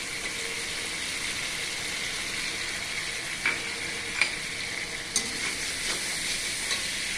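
Prawns sizzling in hot oil with spices, a steady bright hiss that stays even throughout, broken by a few faint utensil clicks.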